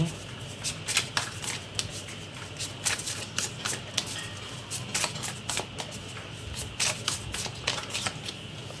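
Tarot deck shuffled by hand for a reading, with repeated close riffling and flicking bursts in an uneven rhythm.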